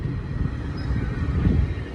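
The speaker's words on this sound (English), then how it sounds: "Train going on by." A GO commuter train rolls past nearby with a steady low rumble and a brief faint squeal, heard outdoors over a short stretch with no talking.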